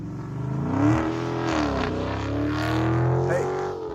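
The White Shadow car drives past in the desert, its engine droning steadily with rising and falling pitch as it revs and passes close by, loud and alone for a few seconds.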